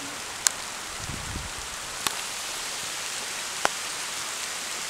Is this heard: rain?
yes